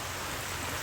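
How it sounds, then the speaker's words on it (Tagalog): Sudden rain falling outdoors at a house construction site makes a steady, dense hiss with no breaks and no voices. "Nagbiglang ulan, kainit-init."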